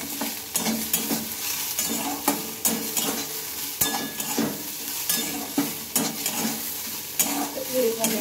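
Pointed gourd peel mixed with beaten egg sizzles in a pan while being stirred, with steady frying hiss broken by regular scraping strokes of the spatula, close and moderately loud.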